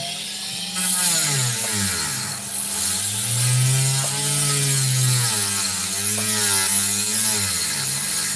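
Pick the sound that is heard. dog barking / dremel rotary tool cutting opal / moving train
dremel rotary tool cutting opal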